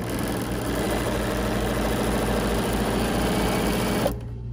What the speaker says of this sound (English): take that over carefully to the sewing machine and stitch that down